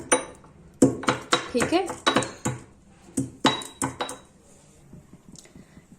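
Spices for kadha are coarsely pounded in a metal pot, giving a run of loud, rhythmic clanking strikes that thin out to softer taps, with a brief spoken phrase near the start.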